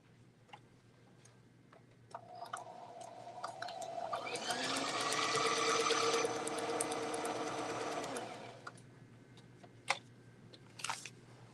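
A sewing machine whirs into a steady, fast stitching run for a few seconds, then slows and stops, with scattered ticks and clicks around it.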